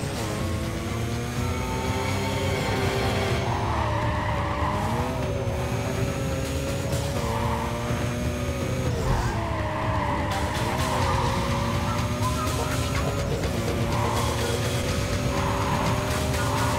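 A car slides through curves in the Need for Speed Carbon racing game, its engine droning steadily with rising and falling pitch and tires squealing repeatedly over a continuous, loud game soundscape.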